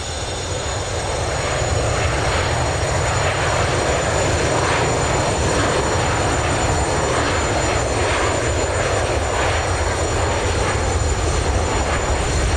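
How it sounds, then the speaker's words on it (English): The jet engines of a Boeing 727 in the FlyJSim flight simulator give off a loud, continuous roar and rumble on the runway, steady and unbroken throughout with no voices. "Listen to these beautiful engines."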